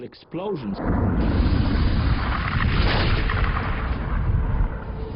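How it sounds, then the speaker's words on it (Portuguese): A deep rumbling blast swells after a short vocal sound at the start, then roars on in a sustained low, heavy rumble. "os pulsares são formados em explosões incríveis"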